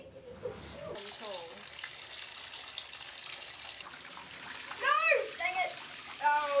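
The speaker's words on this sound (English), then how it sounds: "I just turned the shower head on." A shower head sprays water steadily in a bathing area while a dog is being washed, a continuous hiss of running water with someone talking and exclaiming over it toward the end.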